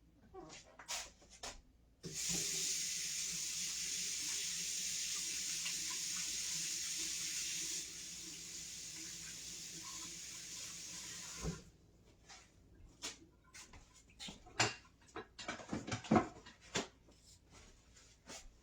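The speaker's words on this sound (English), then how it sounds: "Wash my hands." Tap water runs steadily into a sink for about ten seconds while hands are washed in a home kitchen during cooking, then shuts off, followed by scattered knocks and clatter.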